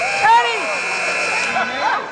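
A basketball game-end buzzer sounds briefly near the start, then crowd noise and talk continue underneath.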